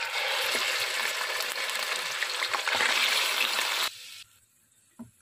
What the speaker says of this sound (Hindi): अब ऑयल में चिकन डाल देंगे।